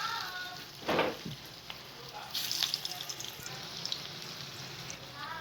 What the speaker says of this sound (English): Now fry our rolls and then flip it.